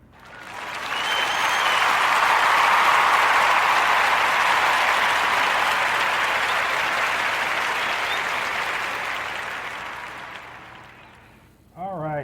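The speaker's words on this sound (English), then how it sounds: "round of applause" A warm round of applause for podcast guests, loud sustained clapping that swells and then slowly fades over about eleven seconds, ending with a brief voice.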